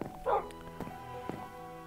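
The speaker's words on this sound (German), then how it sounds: "Das ist ein richtiger Wolf." Wolf barking in the Minecraft video game, several short game-sound barks and yips, one burst near the start, then fainter repeats against a quiet background.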